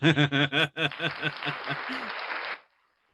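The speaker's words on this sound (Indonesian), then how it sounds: "Yeay, keren, tepuk tangan." Applause from a small group, opening with a few distinct rhythmic claps and dissolving into a quick patter of scattered clapping that stops abruptly.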